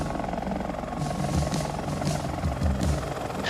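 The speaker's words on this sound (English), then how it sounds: "a dying vet hears the wop wop of the Huey coming to take him home" A Huey helicopter's rotor beats a steady, rumbling wop wop as it approaches at a veterans' reunion, loud and continuous throughout with no talk over it.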